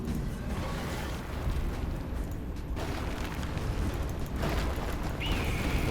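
Mortars launched in the Skyforge game against a Kraken boss roar as a dense, loud, continuous rumble with booming bursts, with no talking over it.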